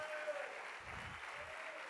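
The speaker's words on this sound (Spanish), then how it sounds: "Fuerte ese aplauso a Cristo Jesús." A church congregation applauding, a soft, steady patter of many hands that sounds distant and fairly faint, with a brief voice rising underneath partway through.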